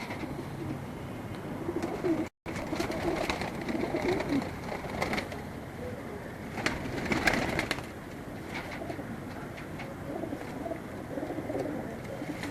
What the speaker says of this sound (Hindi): ये भी इनके पुराने कबूतर हैं।